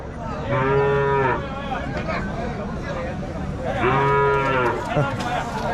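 A heifer calf at a cattle market lets out two long, loud moos a few seconds apart over a busy background of crowd noise.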